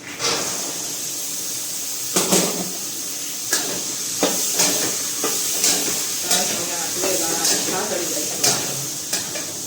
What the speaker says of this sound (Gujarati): હવે નાખશું આપણે પેલા તો તુવેર દાણા